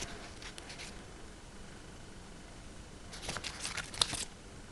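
Leftover strips of craft paper are handled, giving soft rustling and crinkling that swells into a louder flurry of shuffling near the end, close up over a steady background hiss.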